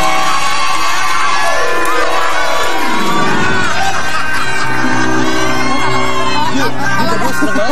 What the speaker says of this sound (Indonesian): Oke, boleh tepuk tangan loh.